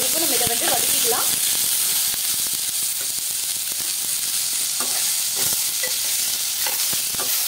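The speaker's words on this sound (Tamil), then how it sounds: "சேர்த்துட்டு வதக்கினோம்னா நமக்கு சீக்கிரமா நமக்கு வெங்காயம் வதங்கிடும்." Onions sauté in a hot pan with a dense, continuous sizzle, broken by scraping stirs of a spoon, loud and close throughout.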